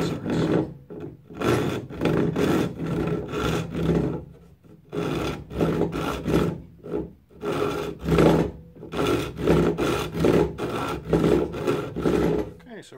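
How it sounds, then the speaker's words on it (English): A hand saw cuts notches into a wooden walking stick with rhythmic back-and-forth rasping strokes, close and moderately loud, pausing briefly midway before resuming. "with a saw make a few inserts"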